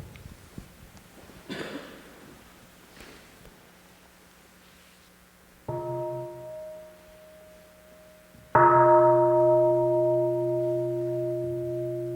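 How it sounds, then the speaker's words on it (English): A monastery mindfulness bell is struck twice, each strike ringing out with a clear, sustained tone that slowly fades in a quiet hall; the second strike is louder than the first, after soft rustling and a cough-like sound. "let us listen to another sound of the bell to come back to our breath"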